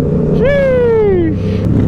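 A TRX vehicle engine rising in a loud, close revving whine as it sweeps past, pitch climbing then sliding down over about a second, above a constant rumbling background.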